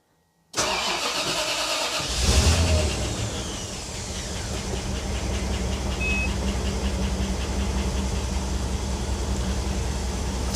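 A Rolls-Royce Silver Spirit III, started for the first time in three weeks, cranks briefly with a loud surge, then settles into a steady, even idle close by.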